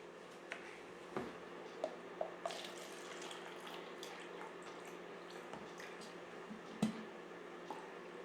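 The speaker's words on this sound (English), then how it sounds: "So I'm gonna pour a little glass here" Nestle NIDO Fortificada powdered milk drink is poured into a glass, giving a soft, steady liquid trickle with a few faint clicks and knocks over a quiet background.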